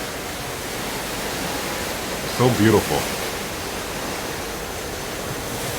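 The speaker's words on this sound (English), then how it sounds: "I'm going to miss the sounds of the Pacific Ocean." Pacific Ocean waves heard at night from a balcony of the cruise ship Pride of America off Hawaii make a steady, broad rushing wash throughout, with a voice speaking briefly in the middle.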